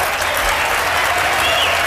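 Audience applause at a political debate, a dense steady wash of clapping from a large crowd, loud and continuous for the whole stretch with no voices standing out.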